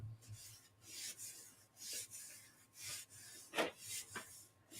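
A hand rubbing firmly on paper laid over a Gelli printing plate, soft raspy strokes repeating in a loose rhythm, close and quiet with no talking.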